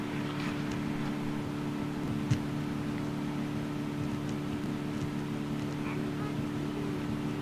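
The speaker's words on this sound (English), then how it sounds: "Oh, look at that Norwegian Dreamliner." A Norwegian Dreamliner jet airliner taxis at Amsterdam Schiphol, giving off a steady, fairly distant engine hum and whine that holds level throughout, with faint background noise and a brief bump near the middle.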